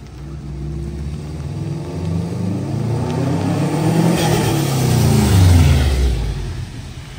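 A 2004 Subaru WRX with a custom front-mount intercooler drives past outside, its engine revving and rising in pitch as it approaches and then easing off, loud and fairly close with no voices.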